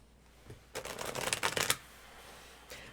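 Tarot cards are shuffled close up in a quick riffle of rapid, crisp flutters lasting about a second, with a faint tap before and after.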